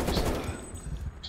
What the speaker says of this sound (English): He's shooting somebody.